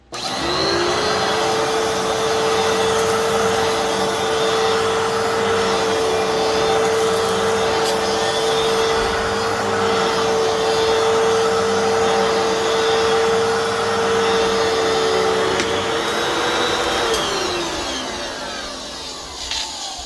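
A Fantom Fury 10 amp vacuum cleaner with its original filter runs steadily and loudly with a constant motor whine, then winds down near the end.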